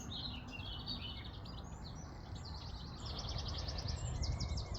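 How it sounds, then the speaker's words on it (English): Birds singing in a spring orchard near woodland, with repeated bright chirping phrases coming from several directions over a soft, steady outdoor background. "as you can hear in the background as we wander around the orchard, all of the bird song"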